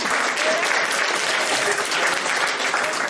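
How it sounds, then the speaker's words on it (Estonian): Wedding guests clapping in a brisk, dense burst of applause, close and continuous with no pauses. "No nii, näita uuesti aplaus ka tüdrukutele loomulikult."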